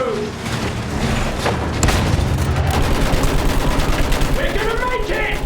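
Dense battlefield gunfire in a Battlefield video game campaign: sustained bursts of rifle and machine-gun fire with heavy thuds and booms, loud and continuous, with shouting voices mixed in.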